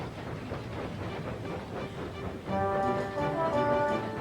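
A steam train engine chugs steadily along the track through open countryside, a continuous rumbling rhythm with hissing, joined partway through by sustained whistle-like tones alongside the running noise.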